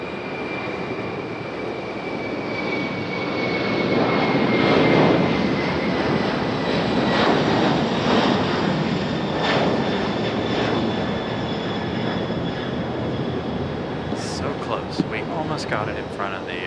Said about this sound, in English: Here we go, here's our FedEx 767. Enjoy the sound.